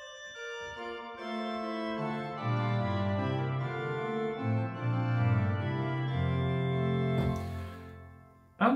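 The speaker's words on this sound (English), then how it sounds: "And then there's the sesquialtera, which makes it sour again." A baroque pipe organ from the Bückeburg sampleset plays on the sesquialtera stop, giving a reedy, sour-edged tone; sustained chords and a moving melodic line continue steadily, ending with a brief noisy burst.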